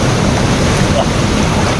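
Steady broadband rushing noise fills the clip, like heavy rain pouring nearby, unbroken and fairly loud with no voices.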